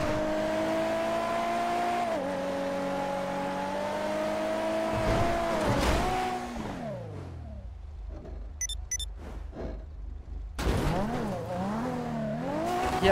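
A car in GTA V is driven hard, its engine whining and revving through gear changes. Brief tire squeal and a drop in pitch come as it slows, then a sharp surge of acceleration follows, loud and close throughout.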